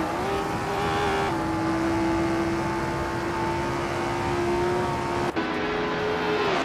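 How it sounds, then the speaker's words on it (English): A 1962 Porsche 804 race car engine in a racing video game holds a steady high-pitched drone, with a brief shift in pitch near the end, loud and close with no talking. "Ice is driving a 1962 Porsche 804, which is known for its agility and handling."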